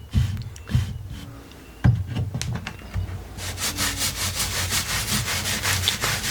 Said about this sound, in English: if I was to take the wax, beeswax, and just apply it a little bit to a spot there